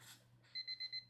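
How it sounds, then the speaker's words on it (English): Alarm clock going off with four quick, evenly spaced electronic beeps, bright and piercing against a quiet room with a low hum beneath. "the sudden blaring noise of the alarm"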